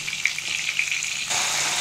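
Bata fish frying in hot oil in a pan, a steady soft sizzle with faint crackles that grows fuller and louder toward the end, with no voices.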